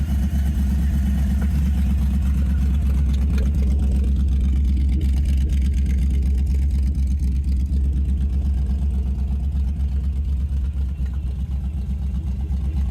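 A 1932 Ford Vicky all-steel hot rod with an LT1 V8 drives steadily, its deep, loud engine rumble filling the cabin with a constant low drone and slight shifts in pitch, heard from inside the car.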